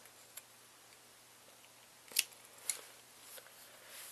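Scissors snipping off excess yarn, two faint crisp clicks close together in an otherwise quiet setting.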